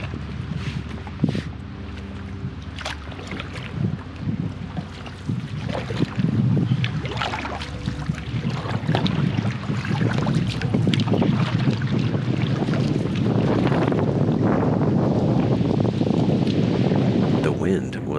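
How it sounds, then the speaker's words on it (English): Wind gusting across open water on an Ontario backcountry canoe trip, a rough buffeting rush against the microphone that builds steadily louder, with brief speech early on. "The wind was messing with us for a good portion of the day"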